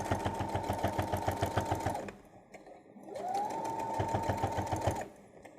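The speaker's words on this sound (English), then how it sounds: "Stitch over just to reinforce." Sewing machine running in two bursts as it stitches over a seam on a fabric travel pouch to reinforce it, a steady rapid needle chatter close up, with a brief pause between runs.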